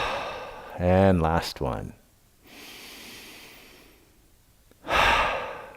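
Slow, deep breathing during a gentle joint-care movement exercise: brief speech first, then a long soft exhale-like hiss and a second louder breath near the end, close and calm.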